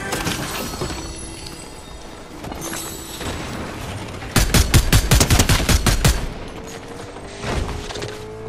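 Rapid-fire weapon bursts in the Fortnite video game: a fast, loud volley of shots in the middle, with scattered lighter shots and game effects before and after.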